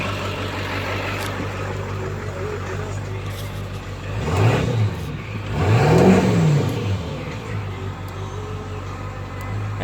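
A Ford Excursion with the 7.3 diesel engine revs up twice under throttle over a steady idle, each surge swelling and falling back, heard close and fairly loud.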